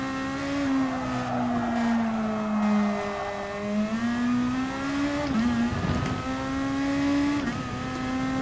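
Rotary-engined race car in the video game Gran Turismo Sport, a steady high-pitched engine drone with shifting pitch as it accelerates and brakes through corners, loud and continuous with no talking.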